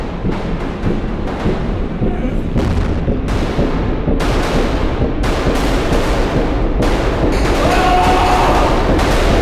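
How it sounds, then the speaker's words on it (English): Gunshots in an audio drama, a series of sharp loud blasts at irregular intervals over a dense rumbling bed, each crack ringing out briefly, with no talk. "All I could hear were the gunshots roaring inside my head."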